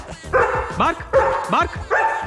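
A Doberman barks on command, giving three sharp, close woofs with a whiny edge, evenly spaced in quick succession.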